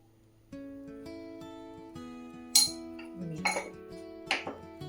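A small spoon clinks against a container while scooping salt, giving several light, bright metallic taps and pings spaced across a few seconds in a quiet kitchen, with a soft sustained tone underneath.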